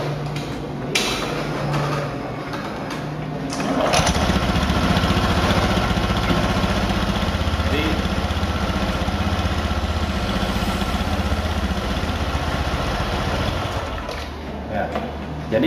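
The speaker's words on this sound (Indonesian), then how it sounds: "Kalau mesin kita nyalakan, maka kuras berputar lalu akan menggerakkan puli primer ini." A motorbike engine idles, spinning the CVT primary pulley, with a steady low mechanical hum that grows slightly louder and rougher after a few seconds and runs throughout, while a voice talks over it.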